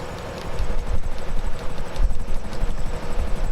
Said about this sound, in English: hop in my helicopter